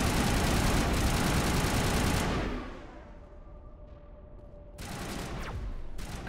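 Sustained, loud automatic gunfire in Mass Effect Legendary Edition, a dense continuous burst that fades out, a short quieter lull with a low hum, then another burst of rapid shots.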